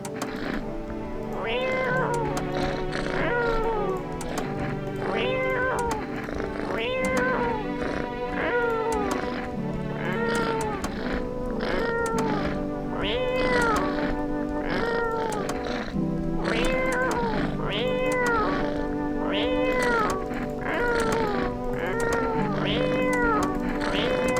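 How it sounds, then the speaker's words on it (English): A cat in a game meowing over and over in a steady repeating pattern, loud and close over constant game music. "Pet the cat. Reach out and pet the cat."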